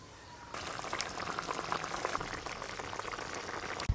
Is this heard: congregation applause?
no